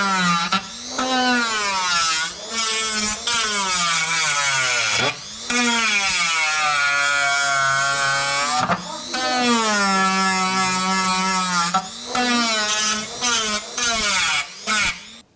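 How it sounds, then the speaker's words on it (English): A Dremel rotary tool cutting during a race car build, with a high whining buzz that rises and falls in pitch as it bites into the material, broken by several short pauses, loud and close. "So the Dremel finally made an appearance, and yes, I'm the one doing it."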